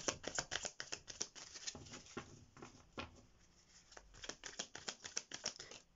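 A tarot deck is shuffled up close, with quick bursts of crisp card riffles and slaps, a short pause in the middle, then another rapid run of shuffling.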